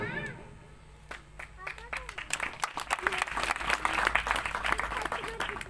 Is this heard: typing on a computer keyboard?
no